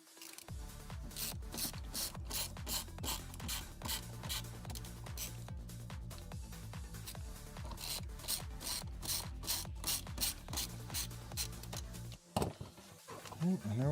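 A screwdriver ratchets out the last few screws during repair of a computer or game console, with a rapid run of small clicks and rasps that stops near the end, followed by brief handling noise.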